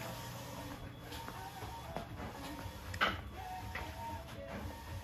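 A cutting plotter slices flex foil for textile printing, giving a soft mechanical whir and hiss with faint ticks and one sharper click, steady and fairly quiet throughout with no voices.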